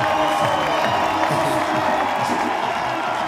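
A crowd at the 2024 IFSC men's boulder final in Prague cheers after a climber flashes the problem, a loud, continuous roar of whoops and shouts through the whole stretch.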